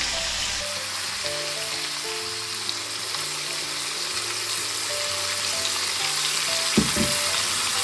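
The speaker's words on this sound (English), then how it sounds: "So just keep on stirring." Chicken and pork adobo sizzles loudly in a pan with a constant dense hiss, stirred briefly with a soft clatter near the end.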